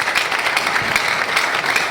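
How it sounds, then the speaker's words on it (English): An audience claps in sustained, dense applause at a youth-focused speaking event, a steady wash of many hands from start to finish without pauses. "Can you now please do the applause better?"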